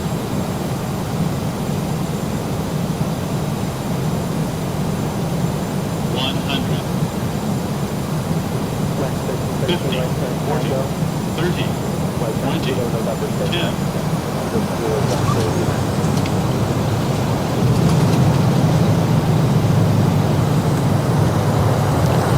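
Southwest Airlines airliner landing in Microsoft Flight Simulator, a steady broadband engine and airflow rumble that holds throughout, with a few faint chirps in the middle and a low rolling rumble toward the end.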